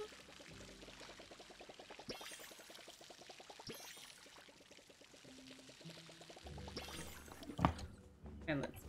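In the video game Palia, a watering can pours over plants, a steady soft trickle of water, fairly faint, with game music tones and a brief splashy flourish near the end.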